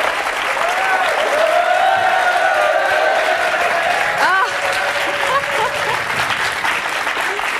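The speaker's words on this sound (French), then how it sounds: "on peut l'applaudir, merci" A studio audience on a French talk show claps in sustained applause with scattered cheers and voices mixed in.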